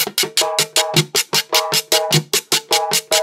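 Guacharaca, the ridged scraper of vallenato, played alone in a merengue rhythm: steady loud scrapes in quick repeating groups, about four per second, close and dry.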